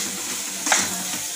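Prawns are being stirred into frying masala in a pan, giving a soft continuous sizzle with a brief scrape of the spoon midway, close and fairly quiet.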